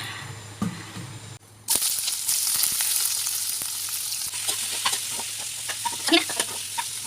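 Chutney ingredients fry in refined oil in a hot wok: after a brief quiet start, a loud, steady sizzle and hiss with scattered crackles and pops runs to the end.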